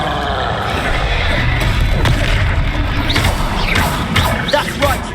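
A Confringo fire spell bursts in Hogwarts Legacy with a loud booming blast and crackling debris, followed by sharp higher-pitched magical zaps, continuous and close.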